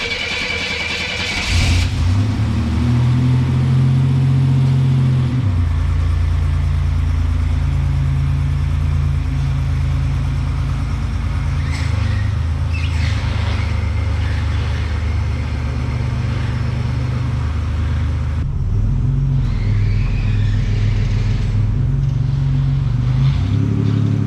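The 396 engine of a 1969 Chevelle fires up and runs loud and close, idling with a deep, steady rumble and occasional revs as the car is moved, with no talk.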